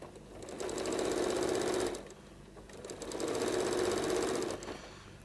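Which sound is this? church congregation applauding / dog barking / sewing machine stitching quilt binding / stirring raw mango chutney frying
sewing machine stitching quilt binding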